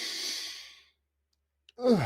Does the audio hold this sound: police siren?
no